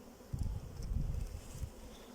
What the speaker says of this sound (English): A few bees looking around